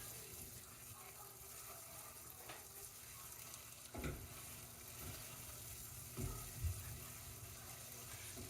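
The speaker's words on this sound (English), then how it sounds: "We're basically just trying to saute it enough until it gets fragrant" Aromatics sauté quietly in a pan, a soft, low sizzle with a few brief scraping stirs and clinks scattered through, fairly faint and without talk.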